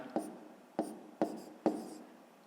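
Marker or chalk strokes on a board during a fifth-grade maths lesson, four short distinct scratchy strokes spaced roughly half a second apart, close and clear with no talking.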